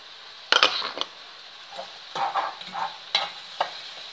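Finely chopped onion going into a pan with fried bacon for a liver dish, stirred with a utensil that scrapes and clinks against the pan in several separate bursts over a soft sizzle, close, with no talking.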